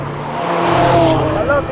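A Kimera EVO37 Group B restomod's turbocharged and supercharged 2.2-litre four-cylinder revs hard, a loud rising engine roar close up with a rough rally-style tone over about two seconds.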